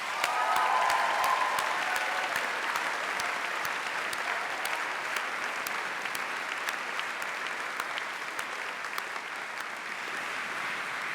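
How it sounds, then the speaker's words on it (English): Sustained applause from a university graduation audience for students, a broad wash of many hands clapping with a few sharper individual claps standing out, fairly distant and even throughout. "Let's applaud those students."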